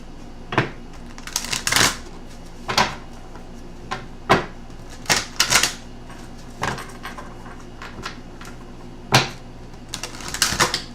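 Guidance cards being shuffled and pulled from a deck, a string of sharp, riffling bursts and soft flicks spaced irregularly over several seconds, close and fairly loud, with no talking.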